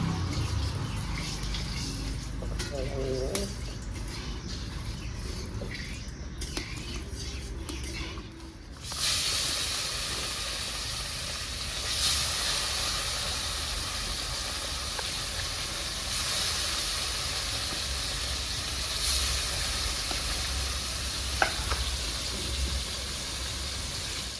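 A steady, loud hiss of mrigal (mirik) fish frying in oil fills the clip nearby, crackling continuously, with a few faint knocks and scrapes early on.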